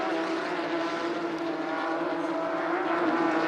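Porsche Carrera Cup race cars in a crowded field along the Kemmel Straight at Spa-Francorchamps, a steady, sustained engine drone holding at full throttle at moderate distance.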